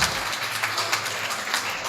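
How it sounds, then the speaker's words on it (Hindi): Audience applause at a mushaira and kavi sammelan poetry gathering in Jalandhar, Punjab: a steady, moderately distant wash of many hands clapping, sustained evenly throughout without speech. "जोरदार तालियां"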